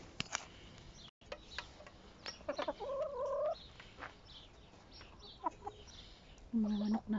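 Backyard chickens in a rural Philippine yard cluck and call near the microphone in several short bursts, with a longer low call near the end, amid quiet outdoor background.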